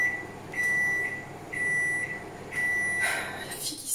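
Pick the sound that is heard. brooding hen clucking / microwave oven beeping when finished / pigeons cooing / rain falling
microwave oven beeping when finished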